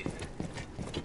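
Horse hooves clip-clop in a video game in a steady, even rhythm of distinct knocks, close and moderately loud with no talk over them.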